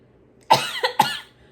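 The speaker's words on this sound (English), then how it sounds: "Coughing still happening." Two quick, harsh coughs close by, one right after the other, in an otherwise quiet room.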